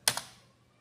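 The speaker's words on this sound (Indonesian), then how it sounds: "Jadi kita tekan tombol F4." Two quick keyboard key presses, near and crisp, land about a tenth of a second apart during a Windows 10 install from a flash drive, then quiet follows.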